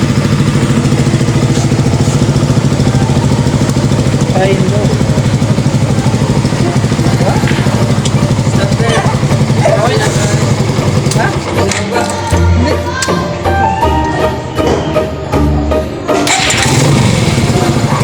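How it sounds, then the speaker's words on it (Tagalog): A motorcycle engine starts after battery work and settles into a steady, loud idle close by, with some clatter partway through. "mamaya nga titesting natin yung motor ko kung okay na ba"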